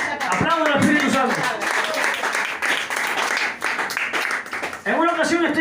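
A church congregation breaks into dense, sustained applause that stays loud almost throughout, with voices rising within it.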